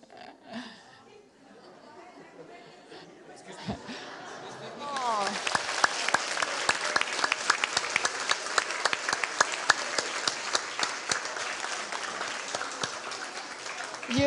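An audience at a happiness seminar claps on one another's heads, building into a dense, continuous patter of many light claps with chatter and voices mixed underneath.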